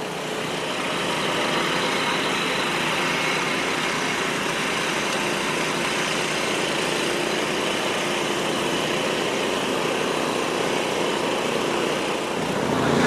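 A power weeder engine runs steadily in a muddy rice paddy field, a loud, continuous droning motor hum with no breaks, close by and alone for the full stretch.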